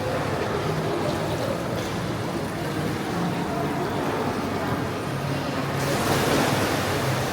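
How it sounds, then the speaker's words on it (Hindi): A high-pressure water jet used for back massage runs at a spa pool in Belarus. Its continuous, loud, broadband rushing and hissing roar stays fairly even throughout, with no clear voices. "बहुत हाई प्रेशर पानी है, ये बैक के मसाज के लिए।"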